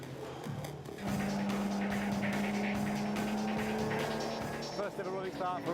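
Race cars pull away at the start of a second race, engines rising into a loud sustained drone with rising pitch sweeps near the end, under a voice talking throughout.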